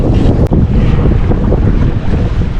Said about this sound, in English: Hope you're not seasick back at home watching all the lumpy waves go by.